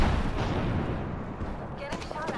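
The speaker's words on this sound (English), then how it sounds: "Getting shot at. Firing." Gunfire in the Apex Legends video game, a dense burst of shots and booming impacts in a duo match, continuous and fairly loud for a couple of seconds, with a few sharper cracks near the end.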